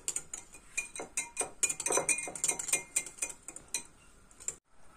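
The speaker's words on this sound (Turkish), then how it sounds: "Ve güzelce karıştırıyoruz." A utensil stirs grated garlic sauce briskly in a bowl, producing quick, close clinks and scrapes in an irregular rhythm that stop abruptly near the end, with no one talking.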